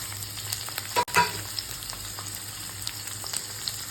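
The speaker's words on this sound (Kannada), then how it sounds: "ಇದು ಚೆನ್ನಾಗಿ ಆಯಿಲಲ್ಲಿ ಫ್ರೈ ಆಗೋದು." Chopped vegetables with onions, curry leaves and tomato fry in oil in a pan for desi pasta, a close, steady sizzle with a brief clatter of a utensil, no speech.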